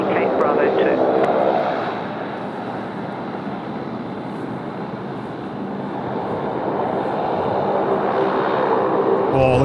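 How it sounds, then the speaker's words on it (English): A Qantas airliner arriving from Los Angeles at Sydney Airport rumbles steadily with a broad jet roar that dips slightly and then swells again, heard from a distance, with a voice talking over it. "I think this might be our Qantas 12 coming in from Los Angeles this morning"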